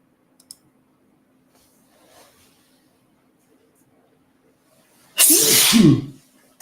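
A single loud sneeze bursts out close by after a stretch of near silence broken only by faint clicks and soft movement.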